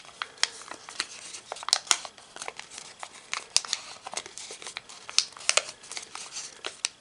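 Origami paper being creased and folded along its edges, a close series of crisp crinkles and sharp snaps at an uneven pace.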